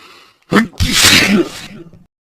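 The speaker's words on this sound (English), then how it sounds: "I huffed, and I snuffed, and I sneezed a great sneeze." A single loud, explosive sneeze with a sharp inhaled buildup, close to the mic, followed by a brief trailing breath.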